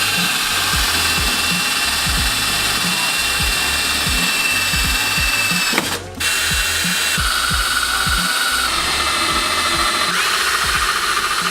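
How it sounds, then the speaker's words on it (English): A power drill whirs loudly and continuously while drilling holes in a Honda S2000 car fender, with a sharp burst of noise midway and the motor pitch shifting slightly as it bites into metal. "Alright, now we're gonna start drilling the holes for the flares."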